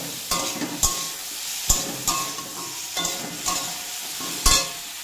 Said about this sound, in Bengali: আর এখানে ডাটাটা ভাজা হয়ে যাচ্ছে